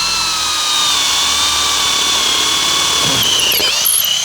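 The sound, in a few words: power drill drilling through with large drill bit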